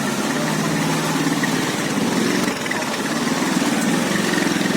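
A motorcycle engine runs close by at a steady, throbbing idle, rough and continuous throughout with no change in pace.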